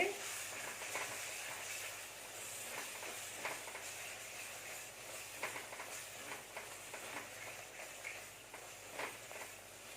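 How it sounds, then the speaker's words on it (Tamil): Ingredients for a Thanjavur-style fish kuzhambu sauté in a pan with a faint, continuous hiss and sizzle, broken by light irregular ticks and crackles, with no voice over it. "இப்போ இதை நல்லா வதக்கிடும் கொஞ்சம் நேரத்துக்கு"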